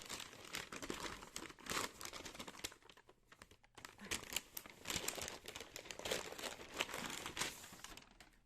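Two books being unwrapped from their packaging, with close crinkling and rustling of wrapping material in irregular bursts and a brief quieter pause midway, no talking.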